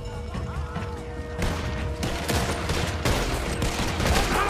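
Red Dead Redemption 2 gunfire crackles in a dense, continuous fusillade of overlapping shots, growing louder after the first second and mixed with clattering mechanical noise, with no speech.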